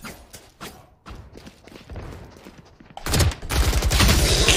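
Rapid bursts of Stinger submachine gun fire in the Valorant shooter, loud and continuous through the second half after quieter scattered in-game sounds earlier.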